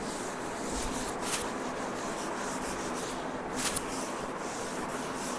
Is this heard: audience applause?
no